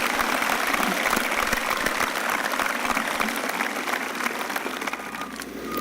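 Graduation ceremony crowd applauding the maintenance and custodial staff outdoors, a broad wash of clapping that slowly thins toward the end.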